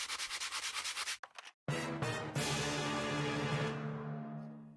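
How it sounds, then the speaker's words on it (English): Rhythmic scratching strokes of sandpaper rubbing back and forth, a quick series of even passes, a brief pause, then a sustained rougher rasp that slowly trails off. "Ow, sandpaper on hemorrhoids?"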